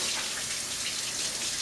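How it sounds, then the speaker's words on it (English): Water from a tap runs in a short, steady rush as sticky cookie dough is rinsed off hands, close and fairly soft. "I'm going to just rinse my hands quickly here."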